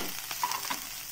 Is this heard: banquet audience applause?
no